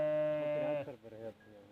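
Sheep and goats herded by people in Pakistan, with a loud, drawn-out bleat followed by a shorter wavering one, close by, as a voice calls over the animals.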